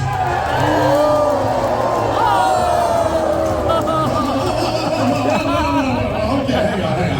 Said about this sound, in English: There's a bunch of you clapping your hands for that man out there.